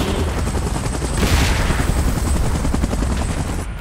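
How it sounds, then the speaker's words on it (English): A helicopter hovers for an evacuation in the PUBG Mobile video game, its loud, dense rotor roar constant and close. Rapid gunfire-like crackling runs through it. "Chopper in position."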